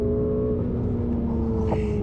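A Ferrari 488 GTB on the Bugatti circuit gives a loud, steady engine drone from inside the car with a slight pitch rise, heard alone without talk.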